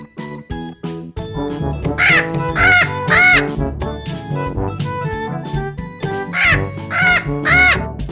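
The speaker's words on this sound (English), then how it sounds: "P for parrot." Parrot calls in a children's phonics alphabet song: harsh, squawking bird cries repeat in loud bursts over bouncy backing music.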